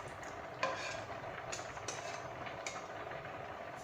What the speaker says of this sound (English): Add the sauce to it. Mix it.